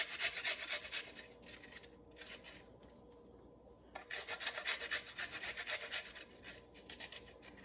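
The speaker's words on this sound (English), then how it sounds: "I have some cloves of garlic that I'll grate in" Garlic cloves grated by hand for a shredded beef dish, giving quick rhythmic rasping strokes in close bursts, with a short pause midway before the scraping resumes.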